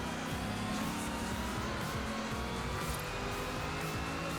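Ford car engine racing in a video game, a steady loud drone of engine and road noise with faint tire sounds, continuous and without speech.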